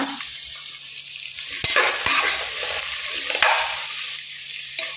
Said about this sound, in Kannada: ಒಂದು ಮೂರು ಈರುಳ್ಳಿಯನ್ನು ಹಾಕಿ ಫ್ರೈ ಮಾಡುವ